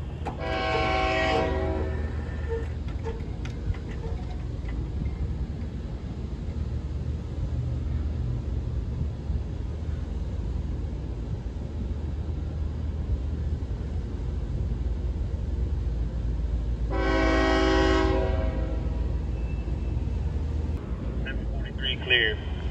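A CSX freight train horn blows two long, loud blasts about fifteen seconds apart while the train slows to a stop at a Plant City crossing, over a steady rumble of rail cars, with someone talking throughout.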